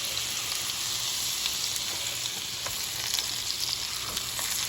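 A breadcrumb-coated chicken cutlet fries in butter in a pan after being flipped, making a soft, even, steady sizzle with faint crackles and no voices.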